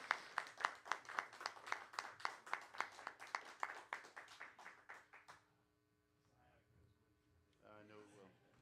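An audience applauds someone at a jazz hero award ceremony in New Orleans, with steady rhythmic clapping that stops abruptly after about five seconds, followed by quiet room hum and a brief voice.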